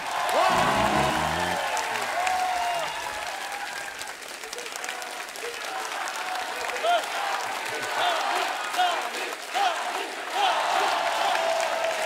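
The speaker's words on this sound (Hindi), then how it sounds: "सबसे पहले मैं बुलाने जा रहा हूं आप सबकी जोरदार तालियों के बीच, प्लीज वेलकम दमदार, धमाकेदार, सुपरस्टार सनी" A studio audience at a televised comedy talk show bursts into loud, sustained applause as a guest walks on stage, with some cheering mixed into the dense clapping and voices faintly audible over the crowd.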